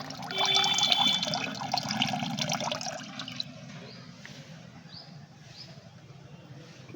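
Water from a fish tank runs through a siphon tube into a bucket with a steady gurgling trickle, loudest at first and then settling into a softer flow with faint drips.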